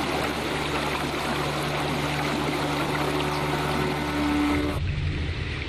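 Flowing water in a VR experience, a steady dense rushing wash heard close and loud, shifting tone abruptly near the end.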